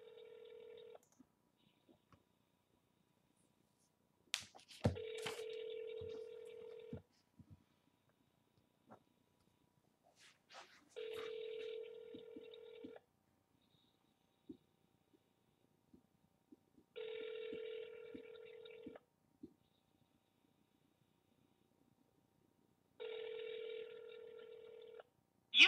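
Bursts of telephone dialing tones during a run of outbound calls, each a steady electronic tone lasting a second or two and repeating at regular intervals, with quiet gaps and faint clicks between them.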